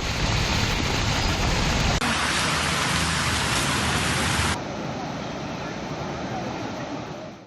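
Heavy rain lashing Hyderabad during flooding, a dense loud roar of downpour throughout with an abrupt change in texture partway, then slightly softer steady rainfall.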